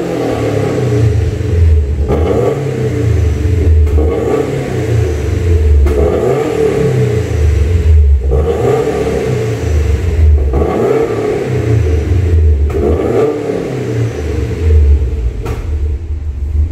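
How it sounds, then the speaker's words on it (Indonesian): Subaru WRX STI fitted with an STI muffler exhaust, revving repeatedly in a steady series of rising and falling pulls, a deep loud rumble close by with no talking. "Mufflernya ini sendiri emang suaranya nggak terlalu gila-gilaan, menggelegar"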